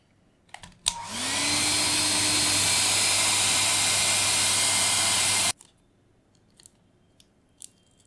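A heat gun warms the feet of a Razer DeathAdder V3 mouse so they can be peeled off, clicking on with a rising whine and roaring steadily for about five seconds before cutting off, followed by small handling taps.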